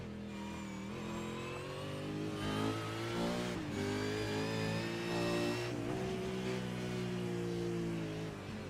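A race car laps Bathurst in the iRacing sim. The engine revs, climbs and drops through gear changes, and rising and falling whines trace each acceleration, all fairly close and free of talk.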